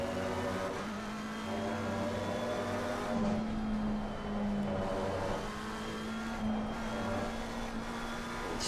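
McLaren 720S racing car in a simulator at the Kyalami circuit, engine held at a steady high drone, then pitch dips and climbs again as the throttle is stabbed, loud and continuous with no talk.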